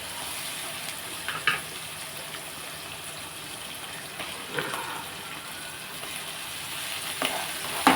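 Raw banana pieces fry in a pan with a steady, soft sizzle, broken by a few scraping stirs and light clatters, close and moderately loud without talking.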